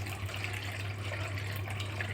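Water splashes and sloshes steadily while small washed crab claws are rinsed in clean water in a home kitchen, with a low hum underneath at close range.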